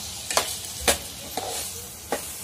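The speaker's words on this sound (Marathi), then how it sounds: "तांदूळ छान परतून घेतले" Rice being sautéed in ghee in a pot for masala rice gives a low steady sizzle, broken by four distinct scraping stirs at uneven intervals, close and with no voices.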